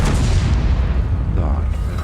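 A single deep, heavy tank cannon boom close up, followed by a rumbling decay, from the video game World of Tanks.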